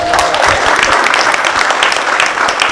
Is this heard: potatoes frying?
no